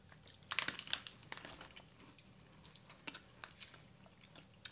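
Close, crisp crunching as an Aldi keto snickerdoodle cookie is chewed, with irregular bursts of crackly bites that are louder at first and then sparser against a quiet background.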